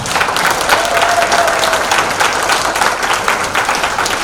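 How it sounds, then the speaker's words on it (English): Loud, sustained applause from a crowd at the close of a political candidate debate, dense clapping that holds steady throughout with no voices over it. "a big round of applause for both candidates tonight"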